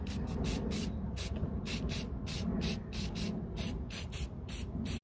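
Rattle-can spray paint hissing onto an FX airgun in brown, a steady series of short, close bursts repeating about every third of a second with no talk.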